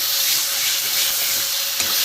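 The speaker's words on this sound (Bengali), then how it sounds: "বটবটিটা বন্ধুরা ভাজা হয়ে গেছে" Boiled broad beans fry in a pan for a vegetarian curry, giving a steady, continuous sizzle and hiss throughout with no voices.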